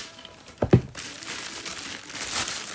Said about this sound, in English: So let's unwrap it. I'm glad they packaged it up good.